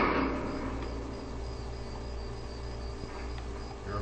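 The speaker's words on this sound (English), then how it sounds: "You're upsetting the crickets." Crickets chirp in the Fallout 3 wasteland near a minefield, a continuous, fairly loud insect drone holding steady throughout, alone without talk.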